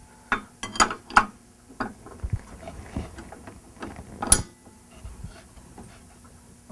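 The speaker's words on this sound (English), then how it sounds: "Better tighten the nut up and take the wrench and gently" Wrench tightening a nut during airplane maintenance, with sparse metallic clinks and ratcheting ticks at irregular intervals, quiet and close.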